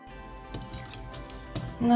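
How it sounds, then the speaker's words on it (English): Scissors snip through felt for embroidered feather earrings, several quick close cuts with faint clicks, set against a quiet background hum. "Now you need to take a scissors and cut it out."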